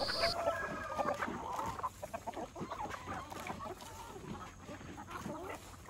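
Giant Rhode Island Red breeder chickens cluck and call together in a breeding pen at feeding time, a busy, continuous flock chorus close by with overlapping calls throughout.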